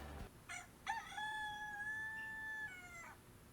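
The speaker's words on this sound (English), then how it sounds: "A rooster." A rooster crows once, a full drawn-out cock-a-doodle-doo, clear and fairly close, with nothing else around it.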